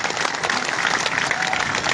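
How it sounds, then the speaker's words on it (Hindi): Dense, loud crowd applause fills the air at an outdoor statue unveiling gathering, a steady wash of many hands clapping together to welcome leaders, continuous throughout without any speech. "इनका जोरदार तालियों से स्वागत करो।"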